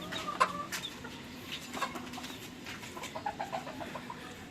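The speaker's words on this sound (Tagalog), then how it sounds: "Ito yung original hen." Soft, low clucks from a hen repeat irregularly over a faint, noisy farmyard background, quiet and fairly close, with no talking.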